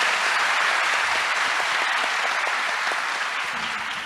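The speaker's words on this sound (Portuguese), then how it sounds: "Eu queria pedir mais uma vez uma salva de palmas para ele" A seated audience at an interreligious dialogue gathering applauds, a dense, even wash of many hands clapping, sustained throughout and tapering slightly at the end.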